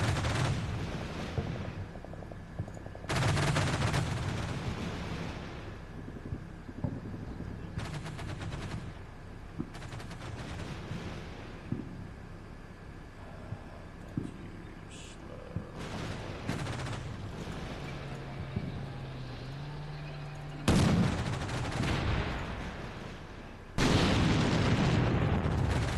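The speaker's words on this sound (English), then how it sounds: "So secondary is going off. Secondary explosion." Gunfire and secondary explosions in the tank-and-infantry war game Combat Mission Black Sea: bursts of machine-gun fire and loud booming blasts alternate with quieter stretches, with sharp single shots scattered throughout.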